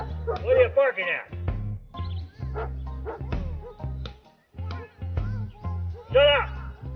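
A dog barks repeatedly at squirrels in sharp, loud bursts, with yips and whimpery tones, while a person talks over and between the barks.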